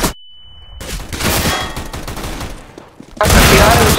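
Rapid bursts of gunfire in CS:GO crackle through the clip, a dense fusillade of shots, some sharp and near, others overlapping into a loud volley at the end.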